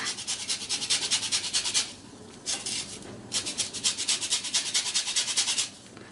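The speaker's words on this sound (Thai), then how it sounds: "เปลือกส้มขูดเล็กน้อยค่ะ" Orange peel being grated into fine zest for a panettone dough, a dry rhythmic rasping in two long bursts separated by a short pause, close and steady with no talking.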